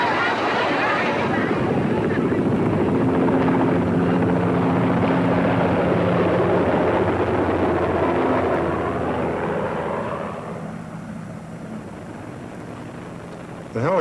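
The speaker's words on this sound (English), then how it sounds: "The helicopters landed on the carriers, and there was no space." A helicopter's rotor and engine drone steadily and loudly, with a low throbbing hum that eases off near the end.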